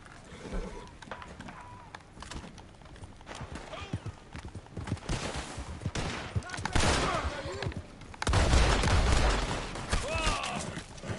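Rapid bursts of gunfire crack in a Red Dead Redemption 2 gameplay scene, mixed with horse hooves and other game noises, while a voice talks at times.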